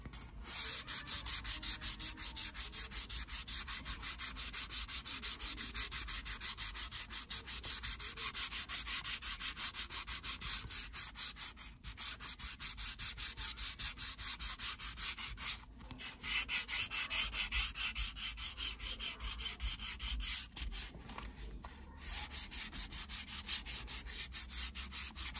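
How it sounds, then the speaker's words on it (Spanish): Steady, continuous sanding by hand with new sandpaper on a car steering wheel, a dry rasping rub that goes on with only a couple of brief pauses, close and fairly loud. "volveremos a lijar, pero con la lija nueva."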